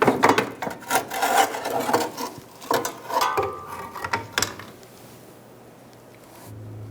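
Scraping, clunking metal-on-metal prying as a pry bar works a rusty fuel tank strap out under a 2012-2017 Hyundai Accent, a run of close, irregular knocks and grinding bursts that thin out into quiet hum.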